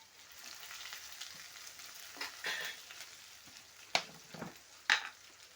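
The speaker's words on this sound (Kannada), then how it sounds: "ಸ್ವಲ್ಪ ಸಣ್ಣಗೆ ಜಜ್ಜಿ ಈಗ ಬೆಳ್ಳುಳ್ಳಿ ಹಾಕೊಂಡೀನಿ ರೀ" Small crushed garlic cloves frying in hot oil in a pan, a steady close sizzle with a few sharp spatters and scraping stirs near the end, no talk.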